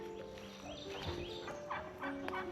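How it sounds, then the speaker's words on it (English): Fowl calling nearby, a quiet mix of short clucks and gobbling trills over faint outdoor background. "Chickens!"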